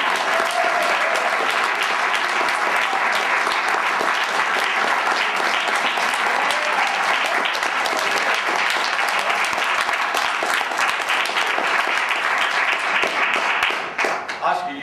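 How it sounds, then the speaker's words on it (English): A large audience bursts into sustained, dense applause to welcome Arizona's official balladeer at a tribute concert, steady clapping filling the room for nearly fifteen seconds before tapering off at the end. "Give a nice round of applause"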